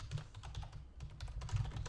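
Quiet, quick clicking of keys on a computer keyboard while an email is written, a steady close patter with a short pause midway.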